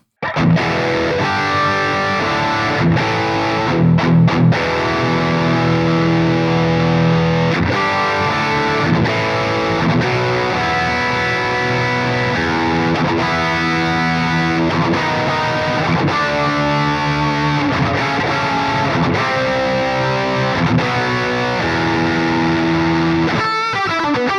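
Heavily distorted, high-gain electric guitar through a Bogren Digital MLC Subzero 100 amp simulation with an OVD overdrive pedal, playing chugging chords and riffs, thick and saturated, loud and continuous with no voices.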